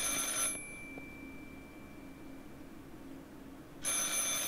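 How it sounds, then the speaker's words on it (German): An old telephone rings in the Martha is Dead video game, a loud electric bell burst at the start and another at the end, separated by a quiet pause of steady room hiss. "Ah, wo ist denn das Telefon?"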